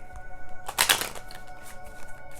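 Tarot cards being shuffled, a short burst of riffling card flutter that rises and fades within about half a second, close and moderately loud over a faint background hum.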